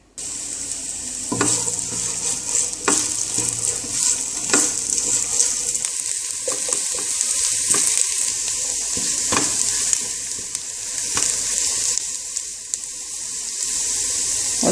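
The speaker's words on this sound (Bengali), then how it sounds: "রসুন পেঁয়াজটা ভাজি হয়ে গিয়েছে" Chopped garlic and onion sizzle steadily in a little oil in a saucepan, a continuous close frying crackle with occasional sharp clinks of a utensil stirring against the pan.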